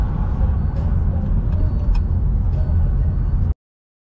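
A car pulls out of a parking spot, heard from inside as a loud steady low engine and road rumble that holds evenly before cutting off abruptly.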